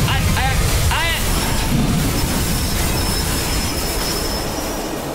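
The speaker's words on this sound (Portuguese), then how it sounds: "a gente descarrilou o trem." Train derailing in the video game Poppy Playtime 2: a loud, steady metallic rumble with squealing wheel screeches near the start, fading slightly toward the end, with a voice reacting briefly over it.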